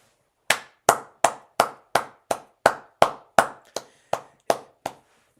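Thirteen sharp, close hand claps in an even, steady rhythm, each crisp with a short decay, heard alone without talking.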